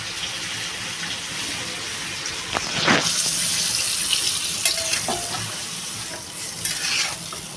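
Water poured into a pan of pabda fish curry cooked in spiced oil, bursting into a loud hiss and bubbling around the pour, then settling into a steady simmering sizzle with light stirring scrapes.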